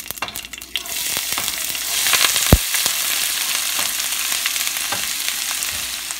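Onions sizzle and crackle steadily in hot oil, with stirring scrapes and a sharp clink of a utensil partway through; no one speaks.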